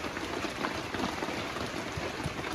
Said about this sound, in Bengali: বৃষ্টি পড়েই রয়েছে।